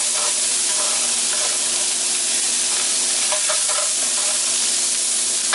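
Beans being stirred into a hot frying pan with already-cooked shrimp, a steady loud sizzle with scraping stir strokes running throughout.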